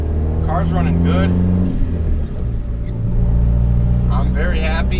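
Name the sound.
turbocharged Honda Accord engine running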